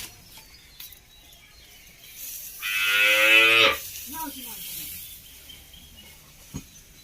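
Cows and calves moo inside a cattle shed, one loud, drawn-out call standing out near the middle with a few shorter lowing sounds after it, over quiet background noise.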